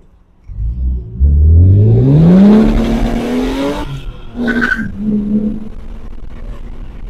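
BMW E36 M3 with a modified intake, accelerating hard in first gear with a loud rising engine roar and spinning, squealing tires, then easing off to a rough idle.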